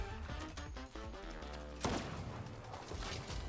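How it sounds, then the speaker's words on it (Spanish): Gunfire in the video game Fortnite crackles in rapid bursts, with a sharp loud shot about midway, set against busy in-game sound and music. "Más disparos por aquí adelante."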